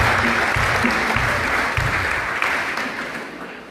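Congregation applause at a preaching broadcast from a radio centre in San Pedro Carchá, a dense, continuous wash of clapping that fades slightly toward the end, with no talk over it.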